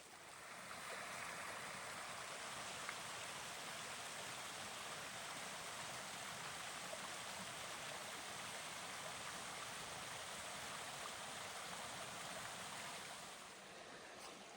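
Sugar Creek rushes along a trail crossing on the Ouachita Trail near mile 164, a steady, even roar of flowing water that fills the whole stretch with no talking.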